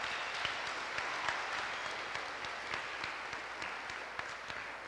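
Steady applause from a large audience, many hands clapping together at an even level throughout, with no talking.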